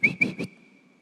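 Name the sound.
person whistling to call a dog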